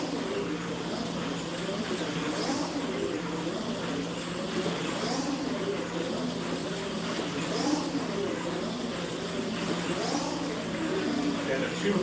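A radio-controlled car on firmer, thicker tires runs practice laps, its electric motor giving a steady, fairly loud whine that swells and fades slightly as it passes, with no pauses throughout.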